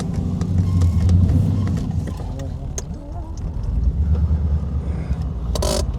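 BMW E32 735iL with a swapped LS1 V8 and manual clutch, driving with a low engine drone that rises and falls, close and fairly loud, with people talking over it.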